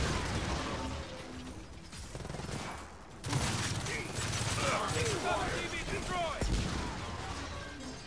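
Gunfire in the video game Gears of War 4 plays as a steady stream of mechanical, ratcheting bursts, dense and loud throughout, with game music and effects underneath and a sharper jump in intensity about midway.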